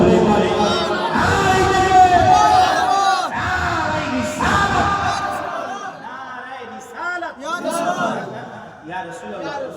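A large crowd at a religious gathering shouts slogans back in loud, rhythmic chanted bursts, with voices overlapping in waves of call and response and short pauses between the surges.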